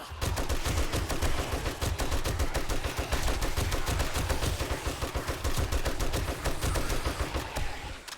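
Dense, rapid automatic gunfire from a weapon in the zombie survival game 7 Days to Die, loud and close, with shots rattling in a steady unbroken stream throughout.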